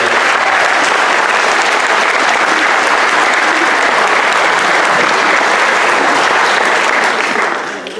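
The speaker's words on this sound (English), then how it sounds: "Can we get them a round of applause for all the hard work and effort and time they put in?" Loud, dense applause from a large crowd, sustained clapping without pause that begins to fade at the very end.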